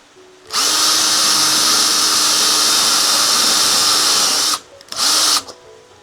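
A power drill bores holes into a Subaru during a DIY 12V solar system install, running loud and steady for about four seconds, cutting out, then giving a short second burst.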